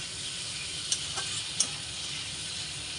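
Raw mango and fish curry simmers and sizzles in a pan as it is stirred, a steady soft frying hiss with a couple of faint utensil clinks, close and without any talking.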